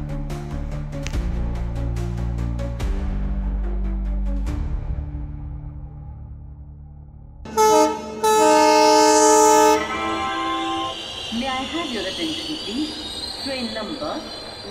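A train sound effect in a Bengali audio story: a rumbling train passes, then a loud, sustained horn blast sounds for about two seconds, followed by screeching, squealing wheels and brakes.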